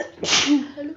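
A single sharp sneeze bursts out close by, short and loud, fading quickly.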